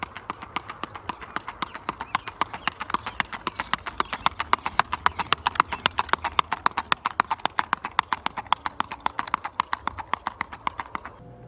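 Hooves of a gaited horse clip-clopping in a steady, fast, even rhythm, each footfall crisp and close throughout with no talking.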